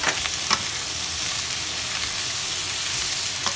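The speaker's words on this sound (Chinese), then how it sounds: "大火翻炒两下。 这时呢，放进虾仁" Shelled shrimp stir-fried over high heat with vegetables for Japanese fried udon, giving a loud, continuous hissing sizzle close by, broken by a few quick scraping tosses of the spatula.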